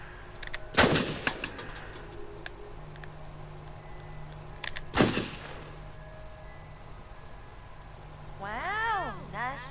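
Two sharp gunshots ring out in the Until Dawn video game, one near the start and another around the middle, each loud and brief over low ambient game sound, followed by rising whistling tones near the end.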